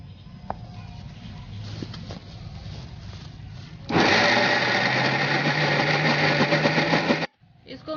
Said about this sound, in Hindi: मैं थोड़ा थोड़ा करके ब्लेंड कर लेती हूँ।